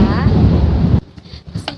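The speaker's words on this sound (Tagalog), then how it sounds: "siya na kumukulog dito sa amin" Thunder rumbles over a home during stormy weather, a loud, heavy roar for about a second before it cuts down to quieter, scattered sounds.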